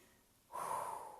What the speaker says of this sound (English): Arms long, deep, deep, deep, deep breathing.